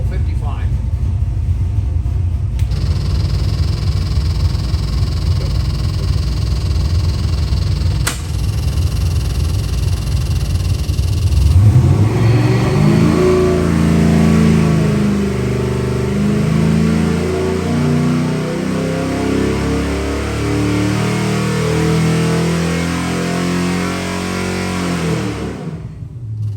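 1973 Corvette 388 cubic inch stroker V8 on a dyno: a loud, steady idle rumble, then a sustained rising rev as the engine is pulled hard, with voices talking over it.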